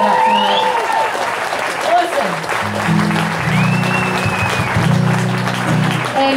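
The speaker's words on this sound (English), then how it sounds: "Give a big round of applause." Audience applause for the guests at a country concert, a steady wash of clapping and crowd noise under sustained low instrumental tones, with a voice speaking over parts of it.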